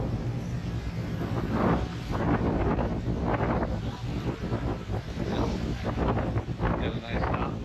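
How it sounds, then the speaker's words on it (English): Gusty wind buffets the microphone beside the water at a dock on Ambergris Caye, producing a constant loud rumbling roar that swells and eases throughout. "Sorry about that, the wind is moving around a lot."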